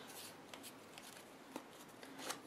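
Several crisp riffling snaps of a deck of playing cards being cut by hand, quiet and close, with small bursts spaced through the moment and no voices.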